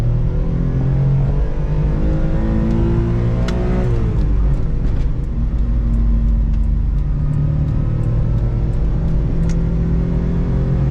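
A 1993 Mitsubishi Bravo kei van's small engine revs high and steady with a droning, rising and falling pitch, loud and close throughout with no voices.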